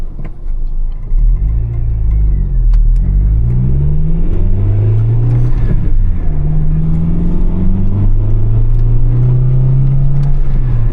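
A 1995 Acura Integra DC4 with a manual gearbox pulls through second and third gear, its engine note droning close and loud, rising and falling with throttle changes and shifts, with no talk.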